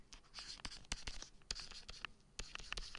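A pen writes out a maths answer, giving faint, close scratching strokes in quick irregular bursts with short pauses between them.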